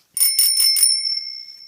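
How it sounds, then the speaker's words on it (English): A Schwinn bicycle bell rings four times in quick succession, close and bright, then a clear metallic tone lingers and slowly fades. "we have another one of these Schwinn bicycle bells that we sell randomly here and there"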